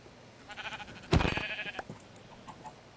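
A single sheep bleats once in the blocky survival game Minecraft, modded with GregTech New Horizons, a short wavering cry standing out over quiet in-game ambience, with faint soft sounds before and after.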